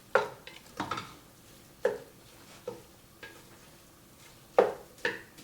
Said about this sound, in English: I'm gonna keep stirring it pretty frequently so that it doesn't really brown